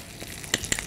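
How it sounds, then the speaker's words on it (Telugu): Asafoetida dropped into hot tempering oil with curry leaves, a brief close burst of sizzling and crackling pops over a low frying hiss. "ఇంగువ ఇక్కడ పోపులో కూడా వేస్తున్నాను."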